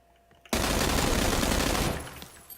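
Video game gunfire, heard as a sudden loud, dense roar of shooting that holds steady for well over a second before tapering into a fading tail.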